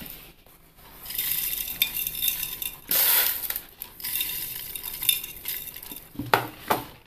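Small baby mangoes and coarse rock salt tumble into a pickle jar in several clattering, rattling bursts with brief quieter gaps, close and crisp.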